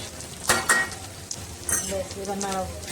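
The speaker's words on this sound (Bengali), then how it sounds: "লঙ্কা গুঁড়োটাকে ভালো করে নাড়িয়ে নেবো" Chicken masala with chilli powder being stirred in a pan at a picnic, with a couple of sharp scraping clacks of a spoon against the pan over a steady frying sizzle, fairly close.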